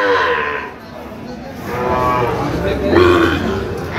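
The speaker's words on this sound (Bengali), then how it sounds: "বেশ সুন্দর বাচ্চা, শাহিওয়ালের ষাঁড় বাচ্চা।" A Sahiwal bull calf moos at a cattle market, giving a few drawn-out, nearby calls against the steady murmur and bustle of the market.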